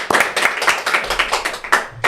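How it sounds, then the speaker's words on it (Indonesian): A small audience clapping at an Indonesian fashion event, a short burst of rapid, close hand claps with an even, steady rhythm. "Berikan tepuk tangan dulu dong."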